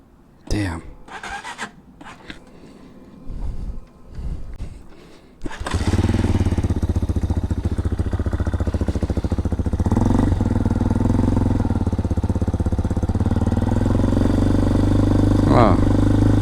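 A motorcycle fails to catch through a few seconds of quiet fiddling and sputters, then fires up and settles into a loud, steady, close idle that runs to the end, with a brief voice heard early on.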